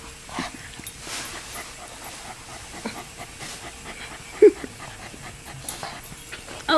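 Dog panting softly and steadily nearby, with a short high whimper partway through, mostly quiet between breaths.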